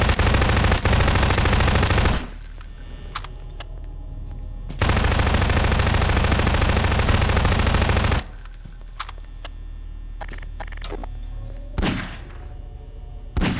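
Bursts of rapid automatic gunfire in Garry's Mod, loud and close, two long sustained volleys separated by quieter stretches with scattered single shots and clatter.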